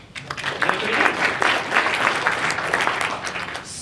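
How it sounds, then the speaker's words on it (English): Audience at a tech meetup in DC applauding a startup, a dense burst of many hands clapping that swells quickly and holds steady for a few seconds before tapering, close and fairly loud. "So, claps for Framebridge."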